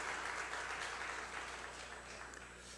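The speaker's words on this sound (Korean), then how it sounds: "박수 한번 주시겠습니까?" Applause from a church congregation at a Wednesday worship service, a dense, steady wash of hand claps that fades slightly toward the end, fairly quiet and heard from a distance.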